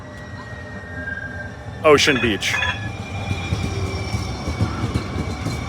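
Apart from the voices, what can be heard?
San Francisco Muni N train riding, wheels squealing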